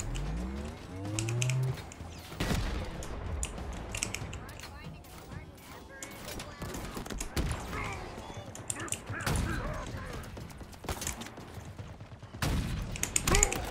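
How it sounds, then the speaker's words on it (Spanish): Gunfire in the video game Halo Infinite, a string of sharp shots and bursts scattered through about fourteen seconds over steady game noise, with someone talking at points. "cómo fallo esos tiros"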